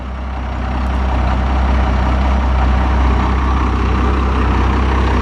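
An International truck's engine idles loud and close, a steady deep rumble with a constant low drone that holds unchanged throughout, no voices.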